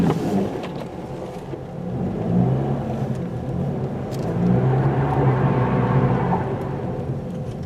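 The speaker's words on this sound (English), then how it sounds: "Just trying to get up the hill here with everybody else, and my tires are spinning" A car's tires spin on a snowy hill during a Michigan snowstorm, with a steady engine drone and revving surges that rise and fall, fairly close, with no talk.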